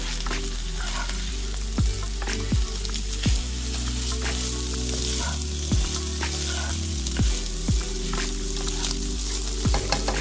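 Soy sauce added to a hot pan, bringing a loud, continuous sizzle with repeated scraping stirs and occasional knocks of a utensil, close up and without talking.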